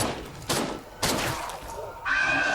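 Gunshots in State of Decay 2, a zombie survival game, played on its hardest difficulty: three sharp, separate reports about half a second apart, loud and close, each followed by a short decay.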